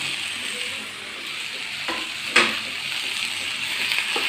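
Minced beef mixture is stirred in a hot pan, giving a steady close sizzle with occasional spoon scrapes and clinks against the metal.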